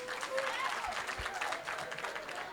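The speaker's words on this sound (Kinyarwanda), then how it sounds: "Abantu bipari mwikomera amashyi twumve." An audience at a comedy show claps and applauds in a steady, dense burst that holds for the whole stretch, with a faint voice showing through the crowd noise.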